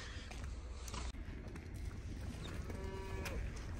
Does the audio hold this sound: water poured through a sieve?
no